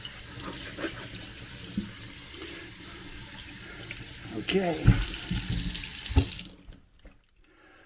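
Hot tap water runs steadily over a K&N air filter being rinsed clean, with splashy surges as the flow shifts, before the water cuts off near the end; a person briefly speaks.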